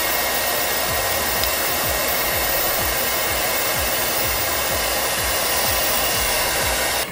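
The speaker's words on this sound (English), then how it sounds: "I'm going to take off the guard completely and just blow dry directly." A hair dryer with its guard removed blows directly onto hair, a loud, steady whooshing roar held throughout with faint rhythmic flutter as it is moved about.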